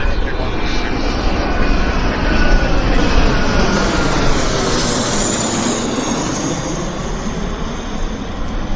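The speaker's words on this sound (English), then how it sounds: "we've got a BizJet coming in right behind me" A business jet lands at Vancouver Airport, its loud engine roar and rushing whine swelling and shifting as it passes close by, steady and dense for several seconds with no talk over it.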